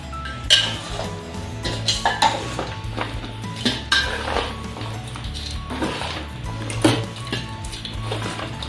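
Ground ladoo mixture with jaggery being scooped from a grinder jar into a kadhai pan: repeated metal clinks and scrapes of a spoon against the jar and pan, steady clatter throughout.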